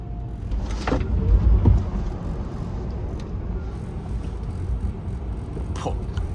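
Mercedes-AMG GT XX electric car with 1000 kilowatts of power accelerating during a Nardo record attempt, heard from inside as a steady low rumble and road roar, with a brief louder surge early on.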